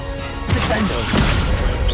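The Descendo spell in the Hogwarts Legacy video game slams down with two heavy crashing thuds about half a second apart, set over a layer of game ambience.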